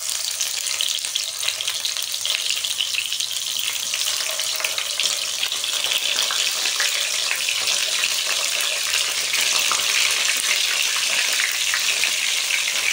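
Stuffed eggplants drop into hot oil seasoned with cumin seeds and curry leaves, giving a loud, steady sizzle that holds up close without a break, with no talking over it.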